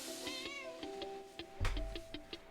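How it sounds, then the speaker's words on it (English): A talkative cat meows repeatedly in a quiet room, a string of short, close, fairly soft calls in quick succession, with a low thump partway through. "Here's another cat."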